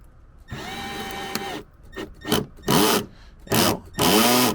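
A cordless power drill with its clutch turned down to low torque drives small fasteners into a Ford truck, several short whirring bursts that stop as the clutch slips, close and loud with no talking.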